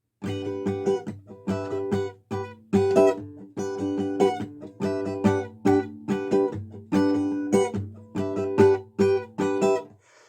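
Slowed-down guitar strumming from a song rings out alone and close, with even, repeated strokes and accented percussive chops in a steady, deliberate rhythm.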